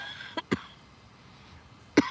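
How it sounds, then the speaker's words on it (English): Three short, dry coughs from one person, the first two close together and the third after a pause of over a second, close and fairly loud in a quiet room. "Sorry for the cough."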